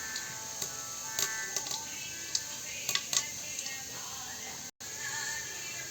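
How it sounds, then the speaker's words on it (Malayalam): Mustard seeds with a few fenugreek seeds popping in hot oil for a chickpea curry, scattered sharp little crackles and pops over a steady sizzle, fairly close with no talking. "കടുക് പൊട്ടുന്നു."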